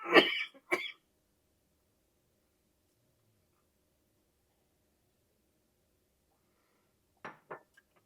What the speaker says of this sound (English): coughing fit